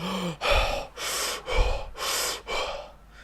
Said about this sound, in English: Losers breathe through their mouth like this.